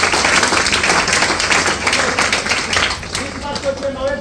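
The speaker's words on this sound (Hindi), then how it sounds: "एक जोरदार ताली आप लोग के लिए होनी चाहिए।" Audience applause breaks out at a DXN network-marketing meeting, a loud, dense spread of clapping from a crowd that keeps going steadily throughout, with some voices mixed in.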